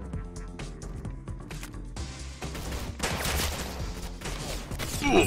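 Rapid gunfire in the Roblox-style shooter Arsenal, with quick bursts of shots that build into a dense, louder fusillade toward the end, heard close and without talk.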